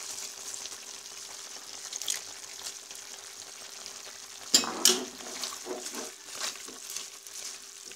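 Chicken cooks in a pan as washed gongura leaves are tipped in, a soft steady sizzle broken by a burst of clattering and rustling as the leaves drop, then faint stirring and utensil taps; no speech.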